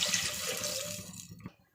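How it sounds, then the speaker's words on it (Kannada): Water poured from a glass into a cooking pot for ghee rice, a close splashing stream that gradually trails off to a few faint drips. "ಅದೇ ಗ್ಲಾಸಲ್ಲಿ ಅದೇ ಪಾತ್ರೆಯಲ್ಲಿ ನೀರು ಹಾಕ್ಕೋತಾ ಇದ್ದೀನಿ"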